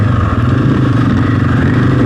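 A dirt bike pulling away in second gear as the clutch is let out revs hard and close, a loud continuous throaty roar with a pulsing low rumble throughout.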